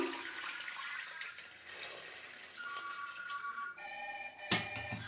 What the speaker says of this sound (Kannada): ಮೀಡಿಯಮ್ ಸೈಜ್ ಆಲೂಗೆಡ್ಡೆನ ತಗೊಂಡು ಈಗ ಇದಕ್ಕೆ ನೀರನ್ನ ಸೇರಿಸ್ಕೊತಾ ಇದ್ದೀನಿ